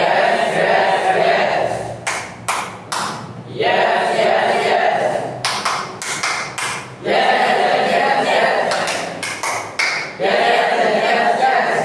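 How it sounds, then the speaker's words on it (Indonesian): A single person claps hands at a steady, consistent tempo as a rhythm guide for a martial-arts form practice, with sharp evenly spaced claps in bursts between stretches of broadband background noise. "Jadi sesuaikan dengan ritme atau tempo dari tepukan saya"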